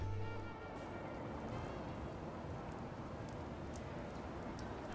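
Steady rain from the horror game Death Mark pours in a dense, even hiss, a constant downpour with no voices or breaks.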